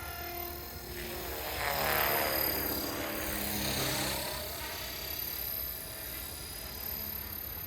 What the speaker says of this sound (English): I'm very impressed with this helicopter.